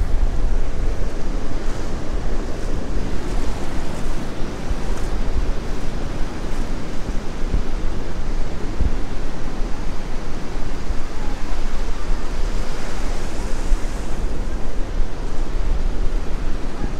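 Ocean surf washes continuously onto a beach of clay-coloured sand near Sydney, a dense, steady rushing roar mixed with wind buffeting the microphone.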